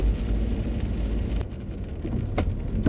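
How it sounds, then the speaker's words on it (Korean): Heavy autumn rain falls steadily during a car trip, a dense continuous wash of rain on the vehicle with a low road rumble underneath and a few sharper drops and knocks. "비가 그칠 생각을 안 해요"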